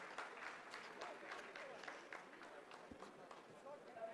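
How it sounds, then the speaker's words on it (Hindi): Scientists in mission control applaud during the Chandrayaan-3 moon landing, a busy patter of clapping with voices mixed in, moderately loud and steady over several seconds. "आप इस तालियों के गड़गड़ाहट को सुन सकते हैं,"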